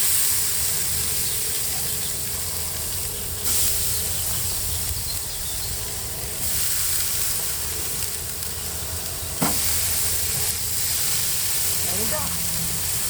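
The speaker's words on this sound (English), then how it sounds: "Now I'm going to cook the fish." Salmon frying in a hot pan gives a continuous broadband sizzle and hiss, steady and close, with a few sharp clinks of utensils partway through.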